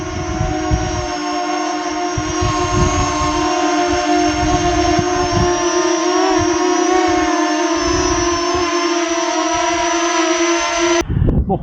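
A JJRC X12 quadcopter drone climbs in gusty wind. Its high, steady buzzing hum holds throughout, with rough low wind buffeting underneath, and stops abruptly near the end. No one speaks.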